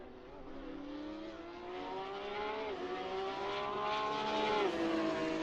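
A Porsche race car at Imola in the Assetto Corsa racing game, its engine note falling and rising as it brakes hard into the chicane, a steady close drone with shifting tones and no talk.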